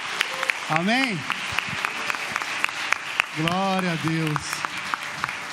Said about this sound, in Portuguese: Você pode aplaudir esse maravilhoso Deus?